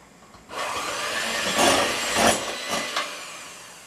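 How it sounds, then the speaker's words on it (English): Egg whites and cream of tartar are whipped together with an electric mixer for meringue. A steady mid-level whirring starts after half a second and swells a few times as the beaters move through the bowl. Nobody speaks. "I'll go ahead and blend that to make sure it's thoroughly blended before I add the sugar in"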